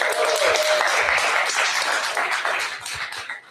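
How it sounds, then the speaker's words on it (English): At a live Senate District 39 candidate forum, a room full of people gives a sustained round of clapping that stays loud for a few seconds and then tapers off toward the end. "But a round of applause for Boyd for pulling all this together."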